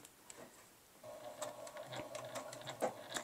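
A sewing machine stitching a clear vinyl pouch slowly around a corner, a few stitches at a time: a near, quiet rapid ticking whir that begins after a brief pause and runs in short bursts, no talking.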